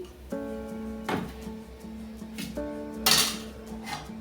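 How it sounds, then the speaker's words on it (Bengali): A metal spoon clinks and scrapes against a pan of hot oil while fried soybean nuggets are lifted out, giving a few sharp, ringing metallic knocks spaced a second or two apart. "এবার আমি তেল থেকে তুলে নিচ্ছি"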